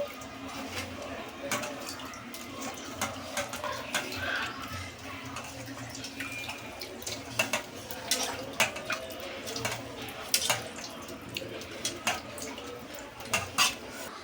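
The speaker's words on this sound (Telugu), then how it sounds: "నేనైతే ముందుగా కట్ చేసుకున్న చికెన్ అంతా కూడా ఇలా కడిగేసి నీట్గా శుభ్రం చేసుకొని పెట్టుకుంటున్నాను" Cut chicken pieces being washed in water in a kitchen bowl, with splashing, sloshing and clinking against the dish at irregular intervals under occasional talk.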